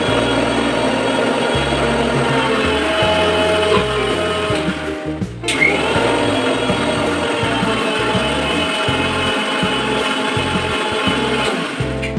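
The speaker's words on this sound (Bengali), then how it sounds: "আমি যেসব মশলা লাগবে সেগুলো মিক্সিতে গ্র্যান্ড করে নিই" Mixer grinder grinding spices for a hilsa fish marinade, a loud continuous whirring motor drone with a brief cut-out near the middle before it spins back up and runs on steadily.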